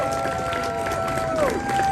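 Audience applause at a Mike Tyson golf-tournament event, steady and dense crowd clapping mixed with cheering, under sustained tonal whistle-like sounds and some background voices.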